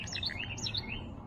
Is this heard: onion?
no